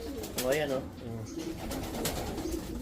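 Racing pigeons coo softly in a loft, low murmuring calls close by, with someone speaking over them.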